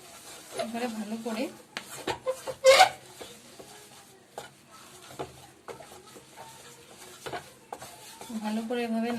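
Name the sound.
stirring semolina dough in a pan for rosogolla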